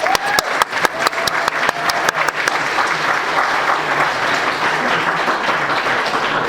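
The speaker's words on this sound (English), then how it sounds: "let's give them another round of applause" A crowd at a university anniversary event applauds steadily, sharp individual claps standing out at first before blending into a sustained wash of clapping.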